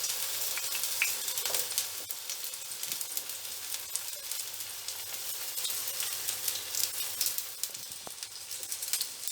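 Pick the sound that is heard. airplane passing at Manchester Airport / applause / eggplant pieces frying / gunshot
eggplant pieces frying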